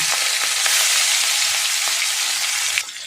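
Prawns rubbed with salt, turmeric and chilli powder fry in a pan with a loud, steady sizzle, broken by a few sharp crackles and spatters; no voices are heard.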